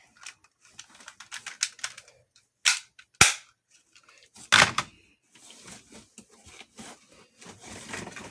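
An airsoft toy gun fires a few sharp, snappy cracks spaced seconds apart, mixed with lighter clicks and rattles of handling between the shots, all close up.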